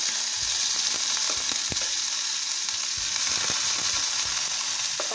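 Sliced onion sautéing in a hot pan with mustard seeds and dried red chillies for a Kerala-style ivy gourd and prawn thoran, a loud, continuous sizzle with occasional stirring scrapes and no talking.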